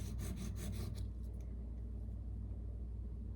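A knife bevel in K390 steel is ground, giving about a second of faint, quick rasping strokes before fading into a low, quiet rumble.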